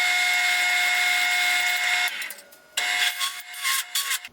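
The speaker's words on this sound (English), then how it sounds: "now they're ready to start drilling some holes" A power drill bores holes in wooden boat framing pieces, a steady high whine for two seconds, then broken bursts of drilling and wood chatter, close and loud with no talking.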